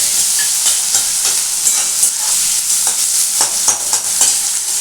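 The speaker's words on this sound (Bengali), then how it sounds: "এগুলো একটু ভালো করে ভাজবো।" Onions frying in a pan while a banana flower kofta curry is cooked: a loud, steady hiss of sizzling oil, with repeated scraping strokes from stirring and no voices.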